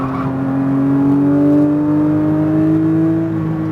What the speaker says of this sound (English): Back over to the left, squeezing the throttle.